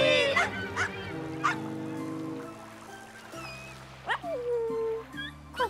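A small pet dog whimpers in thin, high, wavering whines that rise and fall in short bursts, with people talking around it in between.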